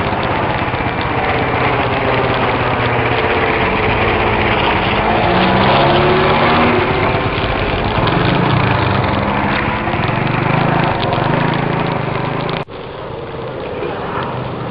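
A firefighting aircraft drones overhead above a fire in Kallithea, Corinthia, Greece. Its loud, continuous engine roar shifts gradually in pitch as it passes, then cuts off abruptly near the end.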